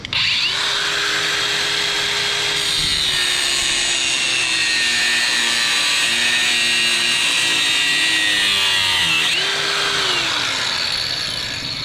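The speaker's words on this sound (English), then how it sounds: "You get yourself an angle grinder." Angle grinder cutting a slit into a brake rotor on a 2013 Honda Crosstour, a loud, close, continuous metal-grinding screech whose motor pitch sags under load and rises again as the cut eases, with no talk.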